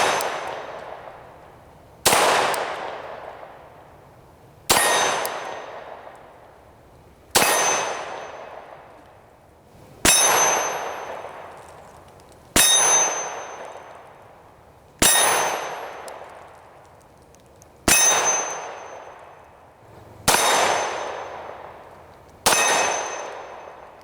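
Bullets striking a steel target at a distance, ten sharp metallic clangs evenly spaced about every two and a half seconds, each ringing out and fading before the next, with no talking.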